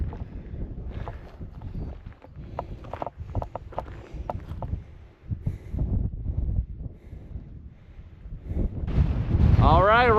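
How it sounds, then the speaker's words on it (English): Strong wind gusts buffet the microphone on the summit of Mount Perry in Death Valley National Park, a steady low roar running throughout, with a person talking over it and a louder blast near the end. "It is very windy up here"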